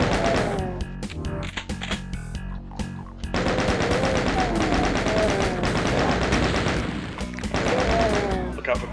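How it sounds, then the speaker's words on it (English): Chaingun in the classic first-person shooter Doom firing rapid sustained bursts, dense loud rattling broken by short pauses, with game explosions and a voice talking over it. "Chain gun, best weapon in the game"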